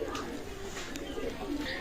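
Teddy pigeon of a royal bloodline cooing softly in a loft, a few low repeated coos under background chatter and noise.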